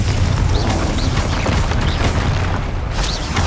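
A fiery Confringo spell blast in Hogwarts Legacy: a loud, dense, rumbling boom of explosion that fills the whole moment, continuous and close, with no speech over it.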